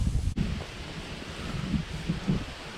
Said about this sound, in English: Apologies for the sound of the wind. It's just really got really blustery today